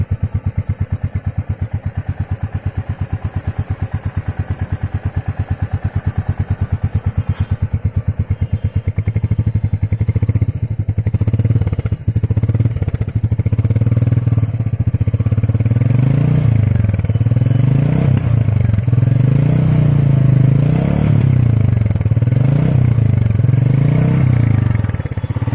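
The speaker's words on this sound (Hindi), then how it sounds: "तो ये है नॉर्मल स्टार्टिंग में मेट्योर 350 का साउंड।" A Royal Enfield Meteor 350 motorcycle engine starts normally and runs steadily close by, a loud, even single-cylinder thump that settles into a rhythmic idle with slight rises in revs, with no talk.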